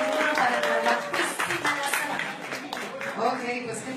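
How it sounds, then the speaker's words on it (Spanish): A small group claps in a quick, steady patter that runs for a few seconds, mixed in with voices talking over it. "Un aplauso"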